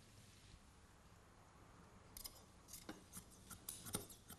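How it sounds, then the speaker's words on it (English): Scissors cut hessian fabric to size over webbing for an upholstered drop-in seat, giving a few quiet, close snips and rasping cuts in the second half. "The webbing is covered by a layer of hessian, which is cut roughly to size by eye"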